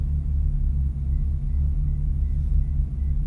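Car engine and exhaust with an AMP aftermarket exhaust rumbling steadily during a track-day sound check, a deep, continuous low-pitched drone that stays close and fairly loud with no talk.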